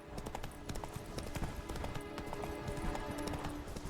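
Galloping hooves of the horse Roach in The Witcher 3 pound out a fast, steady rhythm at close range, with faint game ambience underneath and no talk.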